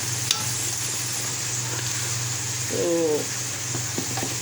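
Cumin and black pepper roast in a pan with a steady low sizzle and occasional stirring taps, close by, while a single spoken word and a brief faint tonal sound pass over it.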